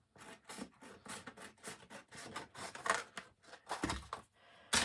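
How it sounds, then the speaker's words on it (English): Scissors cutting paper along a drawn line for a tunnel book craft, a close series of quiet crisp snips and rustles in an uneven rhythm, no talk. "I'm just going to cut along this line,"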